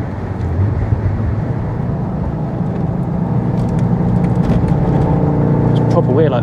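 A Stage 3 VW Golf R engine at full throttle on track makes a loud, sustained drone heard from inside the car. It is faltering and juddering and seems short of power. A voice speaks over it.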